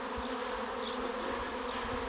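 A honey bee swarm clusters while many bees still fly in the air, giving a steady, dense buzzing drone that stays even and fairly close throughout, with no voices.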